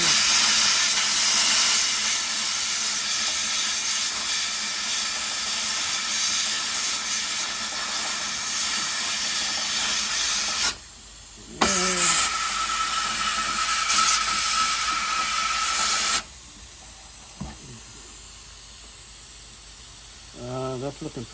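Abrasive blasting of an aircraft spark plug inside a blast cabinet gives a loud, steady rush of air and grit that runs for about ten seconds, then cuts out and briefly resumes, with short talk in the gaps.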